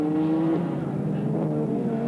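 A Chevy Monza and a Mazda RX-7 sports sedan race down the back straight at Calder in 1986, a loud sustained engine drone with a shifting pitch as the cars pass.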